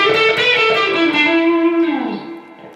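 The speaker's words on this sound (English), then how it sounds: "So this is the lead tone without any preamp at the minute." Sustained electric guitar lead notes through a Laney Ironheart IRT60 amp with no preamp gain stage, clean-ish and harmonically rich, bending and holding a long note before fading out, heard alone.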